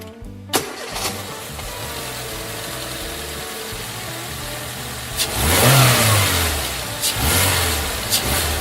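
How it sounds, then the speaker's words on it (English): A jeep engine cranks and fires, settling into a steady idle before revving up in loud surges, with a few sharp clicks and bursts over the running motor. "Jeep."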